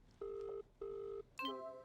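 Phone ringback tone heard over a call line: two even steady beeps in a row, then a connection noise as the call picks up, faint and with no talking.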